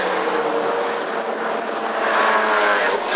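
Race cars at Mallory Park circuit, including a Honda and Mazda MX-5s, roar past in a steady, loud engine drone that swells slightly toward the end, with no talk over it.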